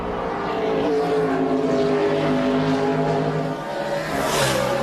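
Kevin Harvick's NASCAR race car roaring hard off the final turn at Watkins Glen, a loud sustained engine drone with climbing harmonic pitch as it accelerates and no talking.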